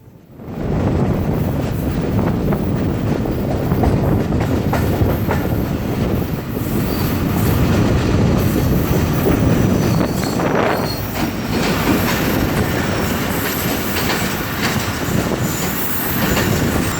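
The 11 Up Hazara Express, led by an HGM30 locomotive, runs past at Nawabshah railway station in Pakistan, a loud continuous rumble of wheels on rails with rattling carriages and occasional high squeals throughout.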